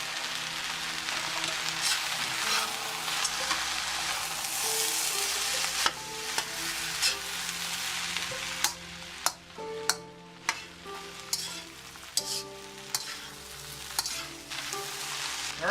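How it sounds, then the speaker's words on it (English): Eggs and rice stir-frying in a pan for fried rice, a dense continuous sizzle with clinks and scrapes of a spatula stirring, close and loud with no talking. "Now we're going to add half of our eggs back in."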